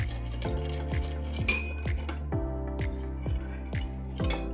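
A metal spoon knocks repeatedly against a cup or bowl while stirring sugar into warm water, producing regular ringing clinks roughly twice a second, close and clear.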